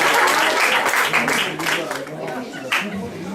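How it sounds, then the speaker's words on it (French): Audience applause at a cosplay costume parade during a Japan-themed fan convention, a dense, steady clapping wash that stays loud throughout, with a brief swell near the end. "On applaudit bien fort."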